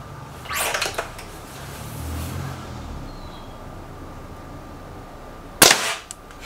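A Remington Warhawk air rifle fires, giving one sharp crack late on after a quieter earlier burst, with faint background hum between.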